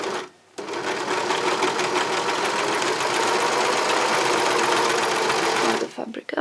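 A serger sewing machine runs steadily, stitching the edge of a cloth pad, its rapid mechanical whir loud and close for several seconds before stopping abruptly at the end, with a brief quiet start.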